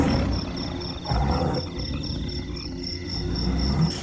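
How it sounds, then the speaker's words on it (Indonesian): A loud tiger roar sound effect within a narrated Javanese story, a deep, rumbling growl sustained across a few seconds alongside a steady high insect-like buzz. "Suara macan kang greng banter banget."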